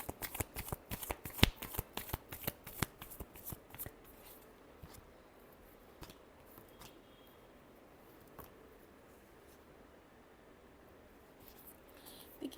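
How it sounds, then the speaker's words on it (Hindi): Tarot cards being shuffled close up, a rapid run of crisp riffling snaps at first, then sparser soft flicks and slides over quiet room tone. "Last shuffle."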